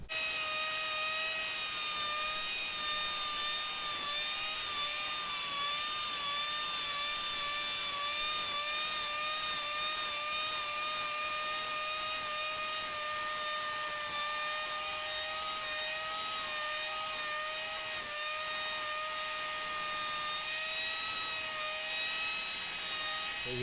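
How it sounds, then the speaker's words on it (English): An angle grinder with an 80 grit flat disc sander whines steadily and loudly as it sands overspray off a metal piece, a constant high-pitched drone with no talking. "gonna take my angle grinder with just my flat disc sander on there. It's got 80 grit, and take away the overspray"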